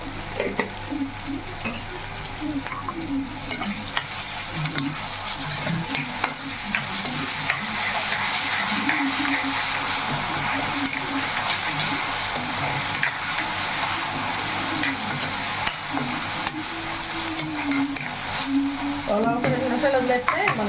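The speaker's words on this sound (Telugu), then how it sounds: "ఇది ఉల్లిపాయ అనేది బాగా వేయింది" Onions fry in a pan with salt added, giving a steady, loud sizzle throughout with repeated stirring scrapes layered on top, close and without talk.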